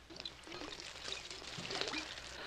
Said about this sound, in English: Pour some alcohol on then.